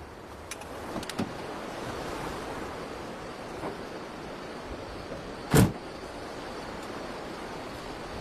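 Sea waves wash steadily onshore in a continuous broadband surge, with one brief sharp knock partway through and no voices.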